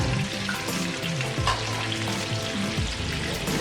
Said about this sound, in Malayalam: 2 സ്പൂൺ നെയ്യ് കുക്കറിലോട്ട് ഒഴിക്കുക.